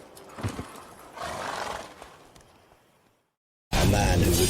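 Geralt's horse Roach in The Witcher 3 whinnies and its hooves clop through a busy game scene, a sharp gap of silence, then a loud burst of sound returns near the end.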